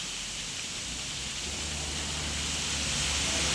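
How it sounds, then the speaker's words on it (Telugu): Steady heavy rain pours continuously, a dense hiss filling the whole stretch with no break and no voices. "చూడు వాన ఎలా పడుతుందో"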